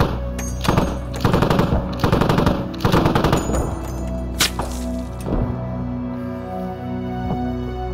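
Bursts of machine gun fire ring out in the tactical shooter Squad, several rapid rattling volleys in the first half, then a couple of single louder shots and fading echoes.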